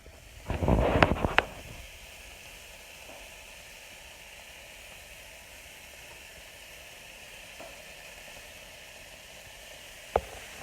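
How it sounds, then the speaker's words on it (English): A soft, steady sizzle hisses throughout, with a brief louder crackling burst near the start and a faint pop near the end. "Sizzle."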